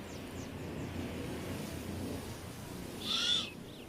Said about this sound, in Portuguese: A coruja-mãe percebe o falcão se aproximando do ninho e por isso voa para uma árvore próxima